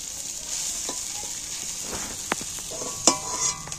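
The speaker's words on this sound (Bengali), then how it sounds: "মাছগুলো আমার ভাজা হয়ে গেছে, একটা একটা করে তুলে নিচ্ছি।" Prawns fry in hot oil in a pan with a steady sizzle. Scattered clicks and scrapes mark the pieces being lifted out one at a time. There is no talk.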